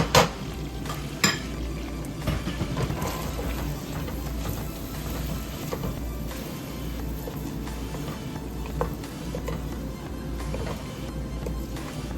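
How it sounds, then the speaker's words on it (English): Onion sautés in a generous amount of melted butter for homemade chipotle bacon mac and cheese, giving a low, steady sizzle with a few sharp utensil clinks near the start. "Can I add our onion? Saute that a little."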